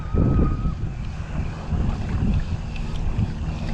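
Steady wind buffets the microphone with low rumbling gusts, over a constant background of fishing boat engine drone and water.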